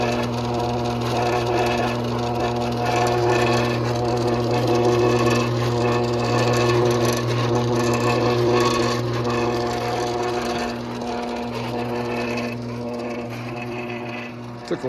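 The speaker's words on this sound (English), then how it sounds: "doing our wash with an old Wringer washer. There's the washing machine motor." An old wringer washer runs on a salvaged washing machine motor, giving a steady mechanical hum with rhythmic rubbing and churning that stays loud and continuous throughout, easing slightly near the end.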